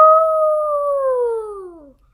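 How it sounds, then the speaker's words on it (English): A coyote howls alone in the distance: one long, sustained wail that slowly falls in pitch over about two seconds before fading out. "A coyote howled in the distance."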